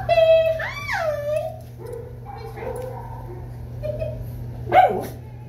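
A dog gives a whimpering yip and a couple of short barks close by, in a dog training orientation session, with a person's voice talking over and between the sounds.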